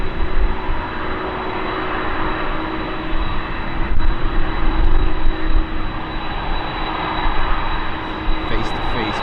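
Boeing 747 engines roaring at Schiphol airport in cold, foggy conditions, a loud continuous close-range drone with a steady high whine and gusts of wind.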